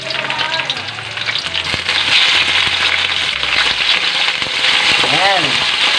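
Chicken pieces hit hot oil with browned garlic in a pan and set off a loud, continuous sizzle with stirring scrapes. Someone talks over the frying.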